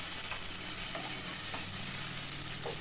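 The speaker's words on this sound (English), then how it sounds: "Saute this for a few seconds and add 1 teaspoon of ginger paste, 3 crushed green chilies, 1 tablespoon of mint leaves" Ginger paste, crushed green chilies and mint leaves saute in oil for pulao, a dense continuous sizzle with a few soft stirring knocks.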